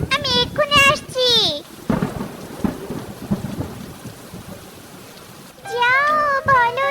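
Cartoon rain falls steadily with deep rolling thunder, and cartoon voices speak in short bursts at the start and again near the end.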